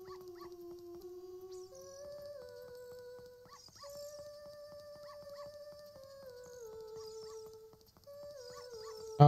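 A dog howls and whimpers in long, wavering, tuneful cries inside a Zelda 3D video game, heard clearly over a quiet game soundtrack, with a brief louder bump at the very end.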